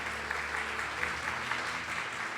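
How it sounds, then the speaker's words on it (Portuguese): A church congregation at a Sunday service claps in praise, a moderate, even spread of hands with a faint low hum beneath it. "Vamos aplaudir Jesus em forte"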